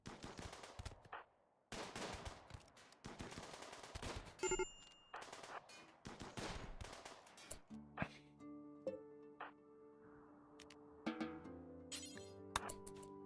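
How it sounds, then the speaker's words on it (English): Rapid gunfire bursts and single shots from the video game RimWorld: Odyssey, loud and close, with game music tones and effects joining in the second half. "you two start shooting up at that guy"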